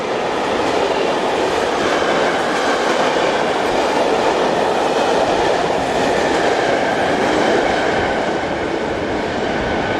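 Diesel train running on the railway line through Rotterdam toward Europort and Maasvlakte, a steady, loud rumble with rhythmic clickety-clack of wheels on rail joints, continuous throughout with no voices.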